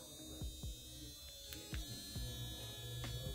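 A small electric manicure nail file motor whirs with a thin, steady buzz under faint background noise, with a few soft clicks and taps along the way.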